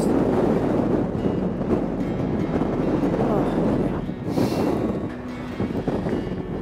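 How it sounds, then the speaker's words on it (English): Strong wind buffets the microphone in a constant low rumble while riding a motorcycle through the Icelandic highlands, with a brief gusty rush partway through and no clear talking. "It is flipping windy."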